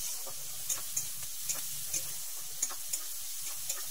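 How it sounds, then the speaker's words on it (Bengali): Two chopped onions, about 300 grams, fry in a pan for a jackfruit and prawn curry, giving a steady soft sizzle broken by regular light clicks of stirring, close and without talk. "তো পেঁয়াজগুলোকে দিয়ে ভালো করে একটু লাল লাল করে ফ্রাই করে নিতে হবে।"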